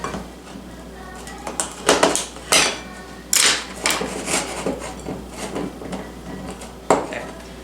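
A knife thumps and taps on a cutting board in irregular strokes, cutting butter into chunks, with a low hum in the background.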